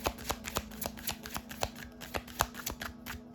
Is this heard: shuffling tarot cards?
yes